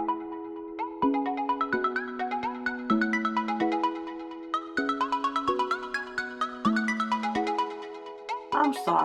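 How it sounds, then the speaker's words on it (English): An alarm goes off outside, repeating a beeping, ringtone-like melody of tonal notes over and over at a steady, moderate level. "I'm sorry if you hear an alarm outside."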